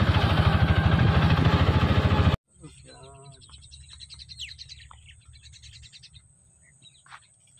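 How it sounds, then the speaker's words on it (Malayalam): A peacock calls in a rainy countryside near Bathery, its harmonic cries rising after a burst of loud noise cuts off, with smaller bird chirps scattered over low background rumble. "പിന്നെ മയിൽ കരയുന്ന കേൾക്കാം കേട്ടോ"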